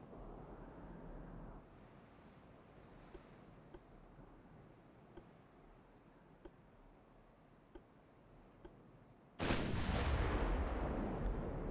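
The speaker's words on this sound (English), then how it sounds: "There you go. Opening fire." Naval gunfire from warships in Ultimate Admiral: Dreadnoughts sounds as faint, scattered distant booms over a low wind-and-sea wash, then a single loud, close cannon blast that rumbles and decays.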